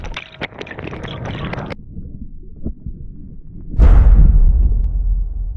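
Toy monster trucks, including a big Monster Jam Max D, rolled into water: light rattling and rolling clatter at first, then a sudden loud, close splash that churns and sloshes on to the end.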